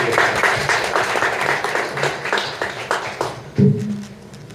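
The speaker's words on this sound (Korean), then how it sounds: "큰 박수 부탁드리겠습니다." An audience at a Korean group talk event claps in a room, a dense run of handclaps that thins out over a few seconds, with a single louder thump near the end.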